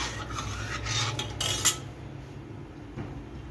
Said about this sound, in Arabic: الاول هنقلب ده كده، نسيب السكر يدوب